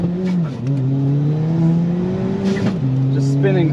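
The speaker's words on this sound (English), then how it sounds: "Just spinning all the way." A car spins its tires on launch at a drag strip, the engine note climbing and wavering with a harsh, continuous roar, close and loud, while a voice talks over it.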